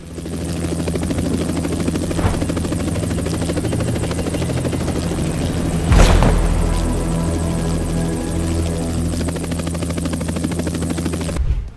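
A helicopter drones loudly and continuously, its rotor throbbing with a steady low hum, with one sharp burst of noise midway.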